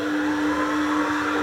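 A mixer bringing firm baguette dough together gives a steady, even whirring hum with a constant motor tone, alone and unbroken throughout.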